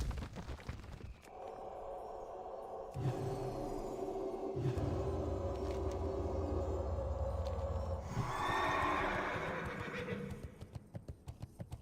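A horse in a video game dungeon whinnies several times, loud and close, with clip-clop hoofbeats and a low rumble, ending in rapid clicking game effects.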